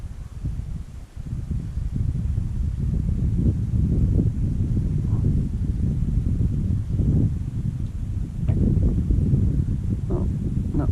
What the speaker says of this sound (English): Maybe it's just always windy here.